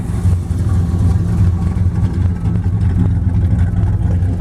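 A loud, rumbling Mopar big-block B-body engine with a carburetor idles close by while warming up, with a lumpy, uneven throb, rising slightly as it revs.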